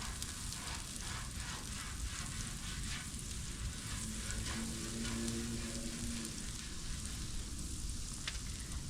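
Butter melting on a Blackstone flat-top griddle gives a steady, dense crackling sizzle that runs unbroken at low, even loudness, with a brief faint tonal hum partway through and no voices.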